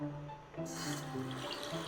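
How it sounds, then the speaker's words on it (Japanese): A shower in a bathroom runs at full pressure during a check of the water flow, producing a steady rushing hiss that swells as the flow opens up. "恒例の水圧チェック。"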